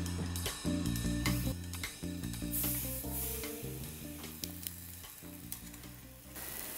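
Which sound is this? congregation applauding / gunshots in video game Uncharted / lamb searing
lamb searing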